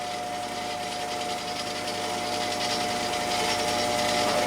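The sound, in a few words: 6.0 Powerstroke crankshaft spinning on a balancing machine at 600 RPM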